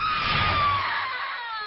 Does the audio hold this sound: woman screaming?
yes